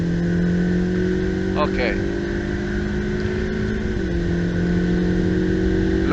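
A Ferrari F8 Tributo on the wet main straight at Monza gives a steady, loud engine drone with a brief gear-change blip, while an instructor speaks briefly over it.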